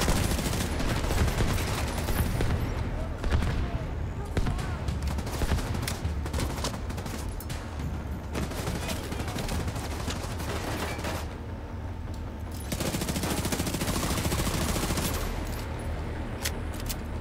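Sustained gunfire in the video game The Division 2, loud dense bursts of automatic fire crackling almost continuously throughout, with no talk over it.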